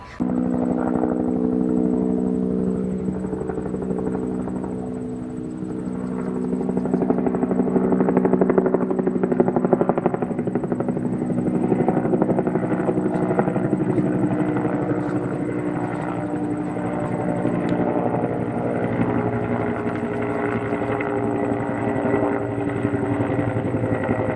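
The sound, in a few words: helicopter flying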